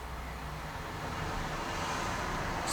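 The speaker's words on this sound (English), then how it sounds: "That's the sound of the road outside the front of my house." Road traffic passing outside the front of a house on a busy road, a steady low rumble and wash of distant vehicles that swells slightly toward the end.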